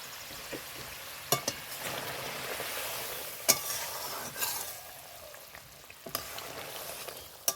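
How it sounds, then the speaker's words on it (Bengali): Cabbage koftas cooking in a pan of gravy over low heat, giving a constant soft bubbling sizzle close by, with occasional sharp clicks and scrapes of a spoon against the pan and no voices. "হালকা জালে ধীরে ধীরে এই কোপ্তাগুলোর সঙ্গে এই গ্রেভিটাকে ফুটিয়ে নেব"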